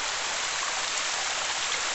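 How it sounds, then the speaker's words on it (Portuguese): Heavy rain pours steadily on a rainy Sunday in the countryside, a dense, even hiss with no breaks. "A chuva deu uma esquiadinha, mas hoje vai ser o dia todo desse jeito."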